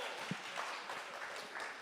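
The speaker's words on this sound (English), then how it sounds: "that concerns me how many of you applauded that" An audience applauds as a dense, steady wash of clapping, moderately loud and continuous, with no single claps standing out.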